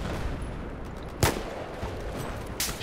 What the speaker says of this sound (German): Ich schieße auf dich.